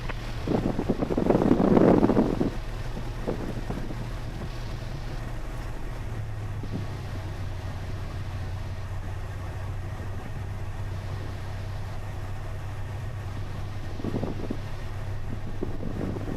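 A small training airplane taxis at night with a steady low engine drone throughout, a louder rushing gust early on, and faint intermittent rattles, with no talking.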